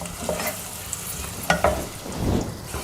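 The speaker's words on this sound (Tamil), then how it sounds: "இந்த பெரிய வெங்காயம் நல்ல ஒரு பிங்கிஷ் ஆகிட்டு பச்சை வாசனை போகிற வரைக்கும் வதக்கணும்" Large onions saute in a pan with a low sizzle, broken by a few scraping stirs of a spatula, quiet and close.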